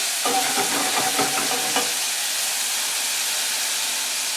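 A steady, loud sizzle and hiss of broth being poured into a hot pan, with a few crackling pops at the start.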